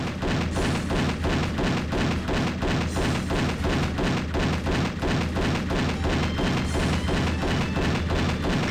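Pistol gunfire and explosions in the Doom video game: a relentless, evenly paced stream of loud shots and heavy booming thuds, packed densely with no pauses.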